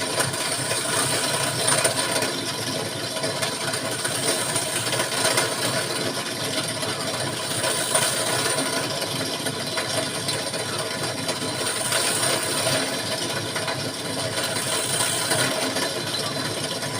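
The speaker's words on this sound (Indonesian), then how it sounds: "Kita langsung bor aja." Holes being drilled into bamboo for a six-hole Sundanese suling flute give a continuous, rough mechanical grinding and rattle. The sound holds fairly steady for the whole stretch, with faint periodic swells and no talking.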